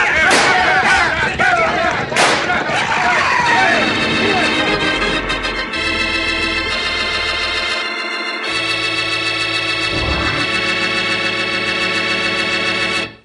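Two sharp, loud gunshots crack early in a chase scene from a 1958 western radio drama, then give way to swelling dramatic music that carries on to the end.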